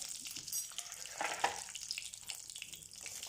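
Asafoetida, sliced green chili and turmeric fry in hot oil, a faint, crackling sizzle with small pops and bursts rising and falling across the clip.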